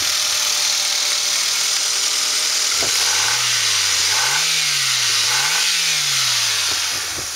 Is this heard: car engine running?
yes